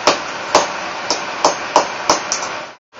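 Seven sharp hammer blows land at an uneven pace while crimping buttons into a handmade leather Glock holster, each strike a close, crisp metallic thwack.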